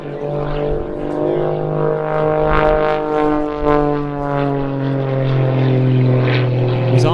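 A Pitts Special aerobatic biplane performs at the Jersey International Air Display 2025, its propeller engine a loud, close, buzzing drone that holds throughout, its pitch sliding slowly as the aircraft moves.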